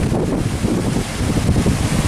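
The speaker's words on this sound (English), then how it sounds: "Oh, the wind." Wind gusts buffeting the microphone beside High Force waterfall near Middleton-in-Teesdale, a loud, steady low roar mixed with rushing water, with no voices.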